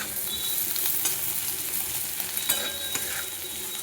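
Chopped spinach tumbles into potatoes already frying in a pan, bringing a steady close sizzle with scraping stirs and a few sharp clinks of the spoon against metal.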